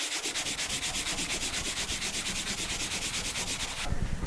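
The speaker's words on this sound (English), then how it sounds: "The whole surface sanded down." Steady back-and-forth sanding across an aluminum toolbox surface, a close, continuous rhythmic rasp of even strokes that shifts tone briefly near the end, with no talk.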